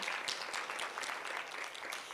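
An audience applauds steadily at a live-streamed talk event, a dense, continuous patter of many hands clapping at moderate distance without a break.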